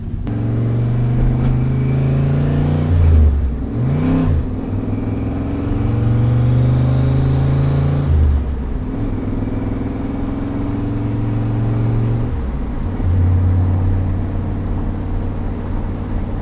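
A C5 Corvette sports car engine drives steadily with a deep, smooth hum, pitch dipping and rising through gear changes; fairly quiet and close, no talk.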